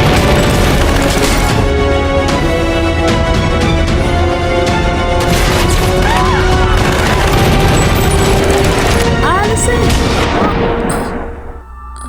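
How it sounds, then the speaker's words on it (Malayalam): Robbers open fire on police during a chase after a robbery, loud dense continuous gunfire volleys blending with a dramatic backdrop before cutting off at the end. "മോഷണക്കാര് തോക്കെടുത്ത് വെടിവെക്കാനായിട്ട് തുടങ്ങി."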